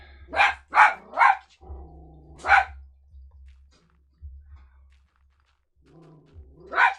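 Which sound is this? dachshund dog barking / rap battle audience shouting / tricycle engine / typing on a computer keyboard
dachshund dog barking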